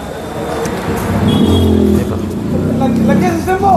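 A diesel Honda Amaze VX 2015 car engine runs loud and close, with a steady rumble that swells twice as if revved, while people talk over it.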